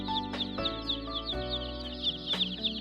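Young Hyline W80 layer chicks peep in a brooding shed, a dense continuous chorus of high chirps from many birds close by, with a steady low hum beneath and a few brief knocks.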